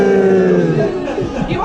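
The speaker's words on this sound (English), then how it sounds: "Please turn around, gentlemen. Bit of booing." A tour group crowd in Edinburgh's underground vaults boos loudly and close, a thick wash of mixed voices jeering together that fades a little toward the end.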